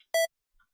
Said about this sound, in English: It's a beep.